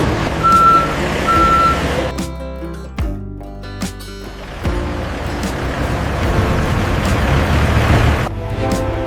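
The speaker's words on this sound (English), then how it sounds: "Delivery trucks are waiting outside." Delivery trucks parked outside a pizza factory: two steady reversing beeps at the start, then heavy diesel rumble, air-brake hisses and clunks, loud and close with no talk.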